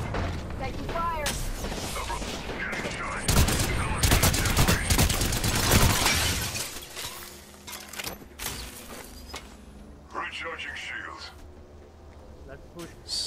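Gunfire in an Apex Legends firefight: dense bursts of rapid automatic shots and sharp cracks, loud and close, easing into sparser distant shots and mechanical clicks, with voices speaking over parts of it.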